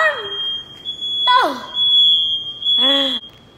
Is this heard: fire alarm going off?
yes